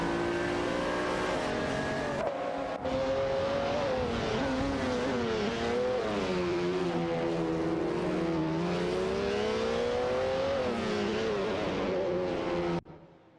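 Racing cars on a racetrack accelerate away, engines whining in rising and falling pitch as they shift, loud and continuous, then cutting off near the end.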